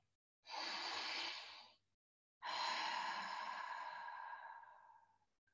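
Two long, deep inhalations of a guided breathing exercise, close and clear: the first lasts about a second and a half, then after a short pause a longer breath in slowly fades away. No talking.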